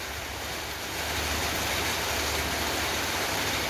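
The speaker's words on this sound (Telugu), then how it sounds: "భలే వాన పడింది అయితే." Heavy rain pours down steadily outdoors, a dense, loud, unbroken hiss of falling water with no voices, swelling slightly after the first second.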